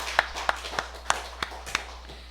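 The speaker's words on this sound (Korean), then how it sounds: "하나님께 영광의 박수 돌려드리겠습니다" Church congregation clapping during a Sunday worship service, heard as a handful of distinct, evenly spaced claps, fairly faint and set against a quiet low hum.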